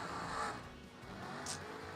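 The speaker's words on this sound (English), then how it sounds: "what a drag race" Drag race cars at a vintage twin-fifties drag meet sweeping down the strip, a distant whooshing engine roar that swells and fades over two seconds, fairly faint with no voices.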